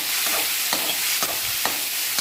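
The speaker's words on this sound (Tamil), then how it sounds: "இப்போ நம்ம வெங்காயம் தக்காளி கருவேப்பிலை கொத்தமல்லி எல்லாம் சேர்த்து நல்லா வதக்கிக்கணும்." Onion, tomato, curry leaves and coriander sautéing in a pan over mustard seeds, a steady bright sizzle with regular scraping stirs about every half second, close and without voices.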